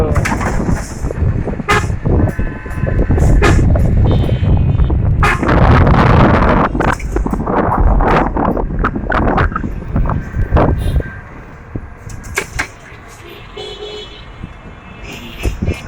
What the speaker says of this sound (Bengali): রায়ান দোতলা বাস চলছে